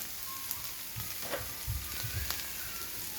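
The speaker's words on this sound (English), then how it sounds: "we just allow it to saute for another 1 minute plus" Nigerian meat pie filling sautés in a pan with a steady, gentle sizzle and a few soft stirring scrapes, close and quiet, with no talking.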